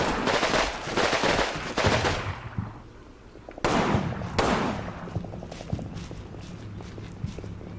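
Gunfire and explosive bursts from the World War II tactics game Combat Mission, loud rapid machine-gun rattles and sharp blasts in clustered volleys, with quieter sporadic shots continuing in the background.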